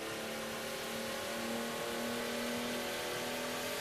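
A Renault Clio V6 engine revs hard during a drag race, a constant loud, close, raspy drone holding steady pitch throughout with no voices.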